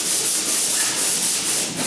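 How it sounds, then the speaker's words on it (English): Steady, close rasping of sandpaper rubbing across a wooden door, a continuous hiss with gentle pulses in its rhythm. "I'm almost done with this small little sanding bit"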